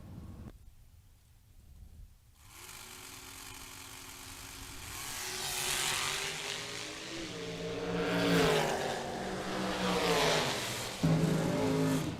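Box dragsters launching down a drag strip at a racing event, engines rising from a low idle into loud revving roars that swell and sweep past, with a second surge later on and no clear talk over it.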